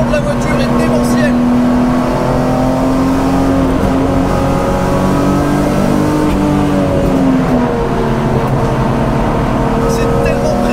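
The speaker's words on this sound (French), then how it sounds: "Le son de la voiture est démentiel." A supercharged BMW M3 E46 rated at 530 hp accelerates hard, its loud, close engine note rising and falling steadily throughout with no break.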